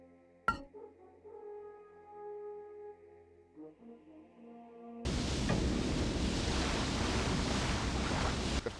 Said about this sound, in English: We have a river and a waterfall here.